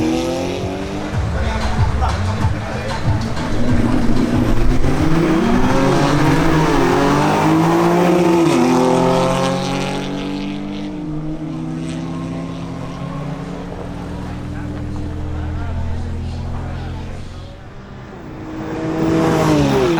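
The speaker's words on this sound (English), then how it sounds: "Next, we have a duel between Alvaro Stefanel in his BMW X3 M and Arturo Polo in his Audi S3." A BMW X3 M and an Audi S3 launch side by side in a drag race, their engines roaring loudly and rising through repeated gear changes, fading somewhat before surging again near the end.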